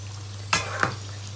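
Pork fat rinds fry slowly in oil over low heat, giving a faint, even sizzle over a low steady hum, with two brief scrapes of stirring close by.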